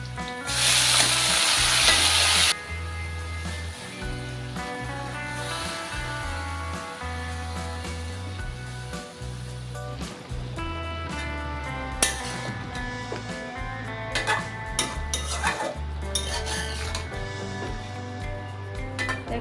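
Pumpkin stems for a shrimp curry hit hot oil with crushed garlic in a loud hissing burst, then settle into a steady sizzle with repeated stirring and clinks of a utensil against the pan.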